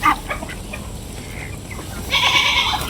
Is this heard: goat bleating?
yes